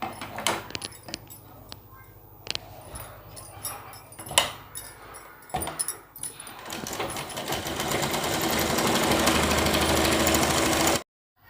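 Sewing machine stitching cotton petticoat panels together, the motor whirring and rising into a steady loud run for several seconds before stopping abruptly, after lighter handling and fabric rustles at the start.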